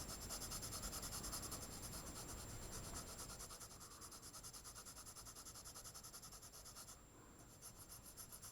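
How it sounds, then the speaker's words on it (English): A pencil turned on its side shades a grey saw blade in a drawing on paper, giving a faint, continuous soft rubbing and scratching heard close up in a quiet room. "I'll turn my pencil on its side and start to shade it in"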